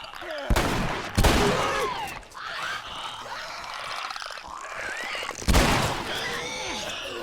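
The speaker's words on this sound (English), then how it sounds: "Shotgun gets them real good." Three heavy shotgun blasts from The Last of Us boom out at uneven intervals, one early, one soon after, one near the end, amid growls, scuffling and background game noise.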